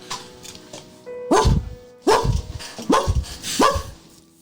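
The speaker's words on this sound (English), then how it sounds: "There's a dog barking from the door directly in front of you from behind the door." A dog barks from behind a closed door in a roleplay game scene, four loud, muffled barks evenly spaced after a quiet opening, with no talking over them.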